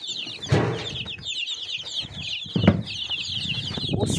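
Leghorn chickens cluck in a steady chatter of soft calls, close by, with a few louder bumps and brief wing flaps among them.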